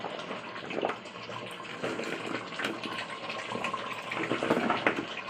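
Water is poured into a pot of beef and potatoes while cooking khichuri, a continuous rushing gush that swells louder toward the end.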